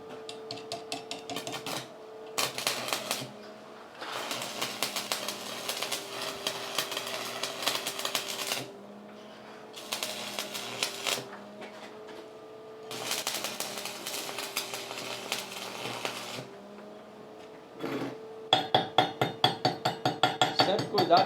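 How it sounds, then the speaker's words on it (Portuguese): Arc welding with a thick electrode on a DIY job: long crackling, sizzling bursts several seconds each, separated by short pauses, close and moderately loud, with someone speaking between passes. "Vamos lá tentar aqui, soldar com esse eletrodo mais grosso aqui."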